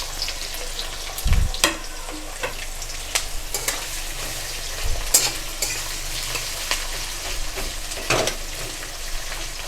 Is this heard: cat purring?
no